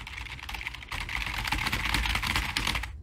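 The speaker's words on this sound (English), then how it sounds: "my keyboard is very loud" Loud, clicky computer keyboard typed in a fast, steady stream of sharp keystrokes, close and dense throughout with a brief pause near the start.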